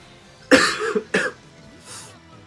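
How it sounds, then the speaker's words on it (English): Coughing from a person playing Dragon Ball Legends: two harsh, close cough bursts followed by a fainter third one, each short and loud against a quiet background. "Apologies for the coughing"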